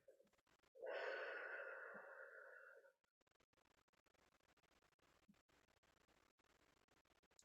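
A slow, deep breath out, close and soft, lasting about two seconds with a breathy rush before fading into near silence; a faint click ends the stretch.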